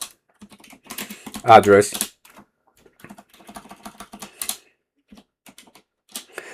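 Keys tapped out on a computer keyboard to enter a network command, a short cluster of clicks between stretches of someone talking.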